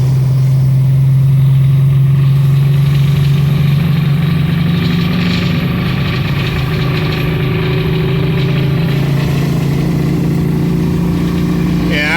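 A car engine, just after an oil change, runs hard and steady at full throttle along a straight stretch, a loud continuous drone with a low humming tone that stays even throughout and never clearly climbs.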